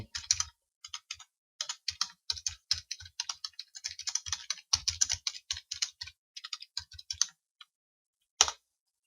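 Rapid typing on a computer keyboard, with steady bursts of key presses and short pauses, ending in a final louder tap, close and alone with no voices.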